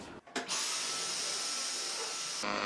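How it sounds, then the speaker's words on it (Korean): A vacuum cleaner roars loudly and steadily for a couple of seconds after a few brief bumps, then cuts off abruptly, used on cut hair at home. "우선은 청소기로 좀 밀게요"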